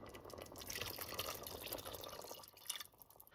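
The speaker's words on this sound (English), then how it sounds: "I'm now going to go ahead and add some homemade beef broth" Homemade beef broth trickles and splashes as it is poured into a bolognese meat sauce, a soft continuous liquid pour with faint dripping, no talk.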